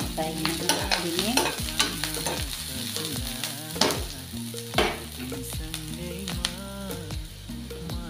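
Onions frying in a pan with oil and green chillies, stirred steadily, with a continuous close sizzle broken by repeated scraping strokes of the spoon, and no talk.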